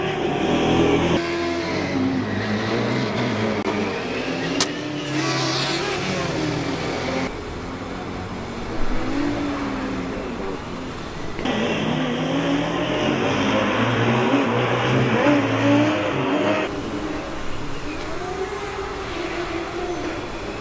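Formula Student combustion and electric race cars lapping a circuit during an endurance event, with loud engine noise that rises and falls as cars pass close by and fade off, over a steady background roar of the track.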